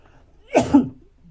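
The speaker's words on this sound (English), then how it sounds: "I just need to have a cough." A single short cough, close and fairly loud, bursting out in two quick pulses against a quiet background.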